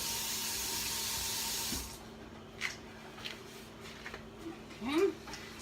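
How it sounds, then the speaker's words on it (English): Water running from a kitchen sink tap for about two seconds as a cutting board dusted with flour is rinsed, then stopping, leaving faint clinks and handling noises. "Wash my board."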